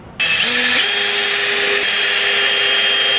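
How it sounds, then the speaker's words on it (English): A power drill with a bit bores holes for a Kwikset smart deadbolt and keyed doorknob in a door, a steady high motor whine that starts abruptly and holds, its pitch stepping up slightly partway through. "next we're gonna get a drill bit and drill these holes out"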